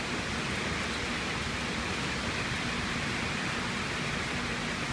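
Steady rain hisses across a train station platform at Epping in Sydney on a cold, frosty day, an even broadband wash with no breaks over the whole stretch and no voices.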